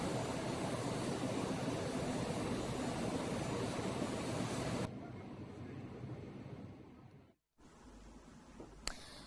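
A Kenya Airways Boeing triple jet arrives with a loud, steady roar of jet engines that fills the first few seconds, then eases to a lower rumble before cutting off abruptly.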